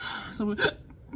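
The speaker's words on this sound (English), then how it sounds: "That was a hiccup and a belch and a gurgle." A single sharp hiccup from a woman, brief and close, breaking into her quiet speech.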